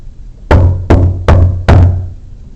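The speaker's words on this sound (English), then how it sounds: "I can even make a knocking sound" Four sharp, loud knocks on a surface in a back hallway at Chico Hot Springs, evenly spaced about a second apart, each with a short ringing decay, alone with no talk.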